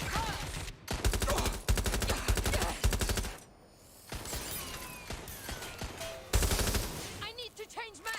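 Rapid automatic gunfire in the Watch Dogs: Legion video game crackles in loud, dense bursts with brief pauses, joined by metallic weapon handling and combat noise.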